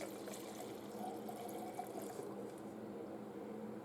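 Chrome paint pours steadily from a can into a container for a fibreglass car grill, a soft continuous liquid trickle with faint splashing, quiet and close.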